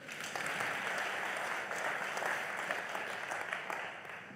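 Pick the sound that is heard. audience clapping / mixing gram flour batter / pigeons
audience clapping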